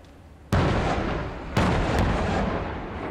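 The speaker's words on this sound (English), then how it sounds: "the mortar team have been scrambled to target their position" Mortar rounds fired at a Taliban position from a forward operating base in Afghanistan, two sharp heavy booms about a second apart followed by a third, each leaving a loud rumbling tail, with no talk.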